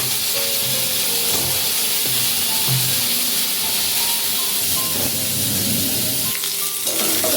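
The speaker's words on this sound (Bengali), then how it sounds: "এদিকে পটলটা ভাজা হতে থাক।" Pointed gourd (potol) frying in oil in a kadai, a steady loud sizzle that carries through the whole stretch, with occasional stirring noises and no talk.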